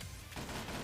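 Video game gunfire during a Twitch Rivals match, a dense burst of rapid shots that swells loud after a brief quieter opening, with no talking.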